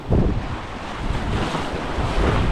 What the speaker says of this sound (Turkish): Bugün baya bir rüzgarlı,